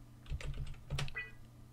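Keys clatter on a computer keyboard in an Alexandria v6 library system, a short burst of several close, crisp keystrokes in two quick clusters with no talk.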